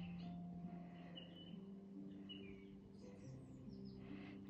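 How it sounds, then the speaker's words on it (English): Soft piano notes play with faint bird chirps and tweets scattered over them, quiet calming background music heard alone at low level. "piano and bird song"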